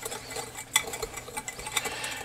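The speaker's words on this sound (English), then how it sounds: "And we'll whisk that all together" Spice rub with cayenne pepper for beef brisket whisked in a bowl, light rhythmic clinks and scrapes ticking along at close range, fairly quiet.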